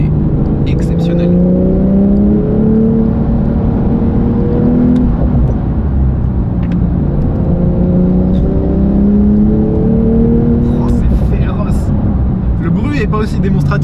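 Porsche 911 Sport Classic with a manual gearbox, its rear engine pulling through several accelerations, pitch climbing and dropping between gear changes, loud and close under constant road and wind roar, with a voice talking over it.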